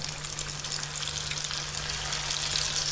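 Yuca pieces deep-frying in oil at 180 degrees, a steady close hiss and crackle of bubbling oil with a faint low hum beneath.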